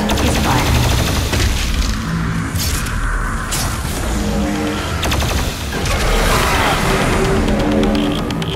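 The BFG 10,000 firing in DOOM Eternal, a loud sustained barrage of booming blasts and heavy mechanical rumble rolling on for several seconds.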